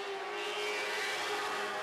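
A Lightning Sprint sprint car with a 2004 Kawasaki 1000 Ninja motorcycle engine screams at high revs, a steady loud whine held throughout, close and without speech.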